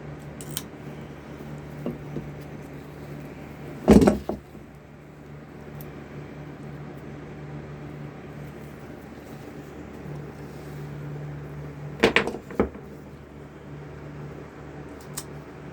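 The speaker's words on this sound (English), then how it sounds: "Grab my pliers, my nippers. Reach in there, and we're going to cut these toes off, okay?" Nippers cutting the toes off a skunk carcass during skinning, two sharp close snips about eight seconds apart over a low steady outdoor hum, no talking.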